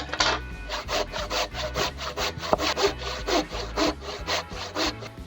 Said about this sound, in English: we are going to cut it with a handsaw. And wet wood is not the wood to be doing this with